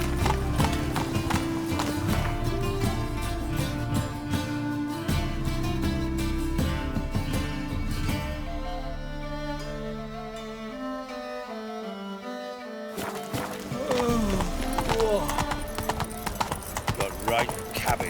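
In The Witcher 3, the horse Roach gallops in a rapid, steady clip-clop of hooves under game music, with a voice speaking, then a brief lull before the hoofbeats and music come back.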